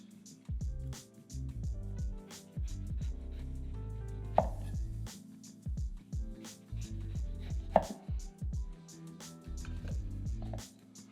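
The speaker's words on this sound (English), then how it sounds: "I'm going to cut a nice orange slice as a garnish" A knife cuts an orange slice for a tequila cocktail garnish, with a series of firm chopping taps against a board in uneven clusters, close and clear, with a couple of sharper knocks.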